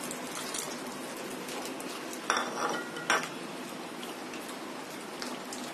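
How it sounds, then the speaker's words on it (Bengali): A spoon stirs vegetable soup in a pot while cornflour is poured in: a soft, steady wash of noise with two brief metallic clinks of utensil on pot partway through. "এক হাত দিয়ে দিব আর এক হাত দিয়ে নাড়তে থাকবো, না হলে দলা বেঁধে যাবে।"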